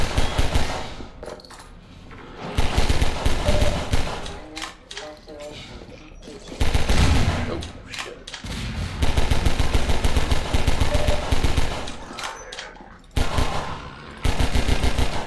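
Pistol gunfire in Half-Life 2, heard as bursts of sharp shots in rapid, uneven clusters over continuous loud game background noise, with brief quieter gaps between volleys.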